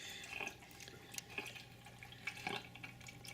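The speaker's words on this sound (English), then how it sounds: "this guy is really noisy. It uses an air pump to draw water into the box." A Marina breeder box driven by an air pump lifts water in a cyclical flow, heard as faint, irregular drips and bubbling splashes that repeat over a low background hum.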